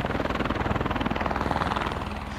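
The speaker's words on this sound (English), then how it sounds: "the helicopter lifted off near the Pictou County solid waste site" A search helicopter lifts off near a solid waste site in Pictou County, Nova Scotia, its rotor blades thumping in a fast, steady pulse at close to moderate distance.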